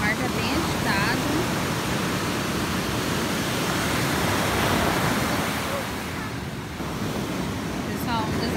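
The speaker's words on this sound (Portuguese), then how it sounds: "ondas estão bem fortes aqui" Strong but not very large ocean waves break on a beach at Ubatuba on a rainy day, a continuous, loud, broad surf roar that swells and eases slightly, mixed with a little wind.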